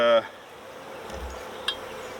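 Honeybees buzz in a steady, faint drone while a hive is opened and split colonies are checked for queens, with a brief tonal sound at the start and a soft knock partway through.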